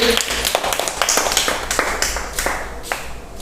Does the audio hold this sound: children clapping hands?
yes